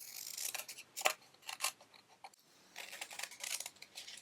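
Scissors snip through fabric stars backed with iron-on adhesive for sewn Fourth of July coasters, a close series of crisp, uneven cuts with short pauses and no talking.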